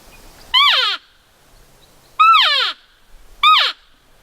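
Three raspy crow caws from a hand-blown Carlton crow call, muffled by a closed hand, each short and descending, spaced a second or so apart with quiet gaps between.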